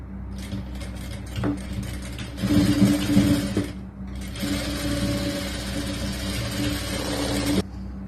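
A sewing machine stitches the lining of a 4XL churidar top, running in two steady whirring bursts of several seconds each, separated by a short pause, with mechanical rattling as the needle works.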